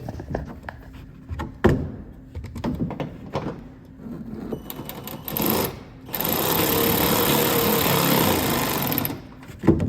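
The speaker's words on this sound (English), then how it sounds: "We're going to tighten that thing up." A power tool whirs in bursts while tightening a splash guard bolt on a third-generation Toyota Tundra, followed by a long, loud sustained run, close by with no talking.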